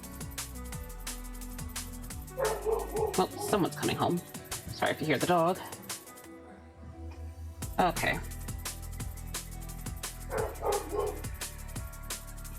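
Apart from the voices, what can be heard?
dog barking at home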